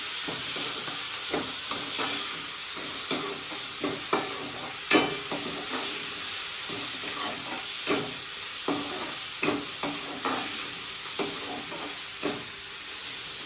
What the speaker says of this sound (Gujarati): ટામેટા શેકાવા દેવાના, હવે થોડું પાણી દેવાનું